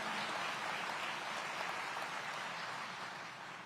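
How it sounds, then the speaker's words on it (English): Sustained applause from an audience at a public safety event in Aurora honoring the city's public safety chiefs, a steady dense wash of clapping that stays loud throughout and eases slightly at the end. "Another round of applause for our chiefs of public safety here in the city of Aurora."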